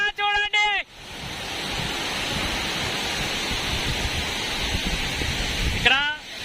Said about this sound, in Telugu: చూడండి జలపాతం,